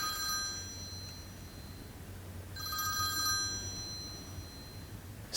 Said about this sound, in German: Der peinliche Moment zum Beispiel, wenn bei jemandem das Telefon läutet während der Vorlesung.